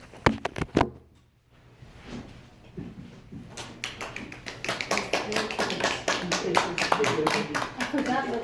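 Audience applause at a Toastmasters meeting: a few sharp early claps, a brief lull, then scattered clapping that builds into steady group applause, with voices talking alongside.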